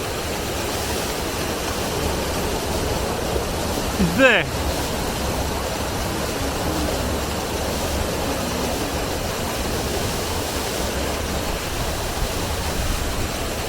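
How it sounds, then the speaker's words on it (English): Waterfall near Ullswater lake in the hills, a steady full-band rush of falling water heard close and continuous throughout, with a brief voice breaking in once partway through. "But the waterfall"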